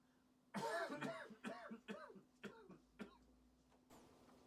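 A person coughs several times in a row, close and loud at first, then a few shorter, softer coughs trailing off, with a faint steady hum behind.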